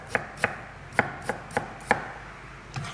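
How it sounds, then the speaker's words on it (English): A knife slices through dasheen on a cutting board, giving about seven crisp, close knocks at an uneven, unhurried pace, with no talking. "I'm just going to get some slices."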